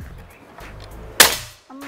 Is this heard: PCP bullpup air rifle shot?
yes